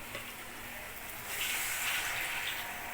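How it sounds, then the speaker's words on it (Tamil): Water pours steadily into a cooking pot for a rye semiya egg biryani, a soft rushing wash that swells louder about halfway through and keeps flowing to the end, with no talking. "2 மடங்கு தண்ணி ஊற்றணும்."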